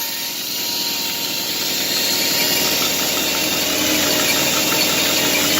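A drill spins a homemade oil pump priming tool inside a small block Chevy engine, a steady loud whirring drone that holds constant throughout with no pauses.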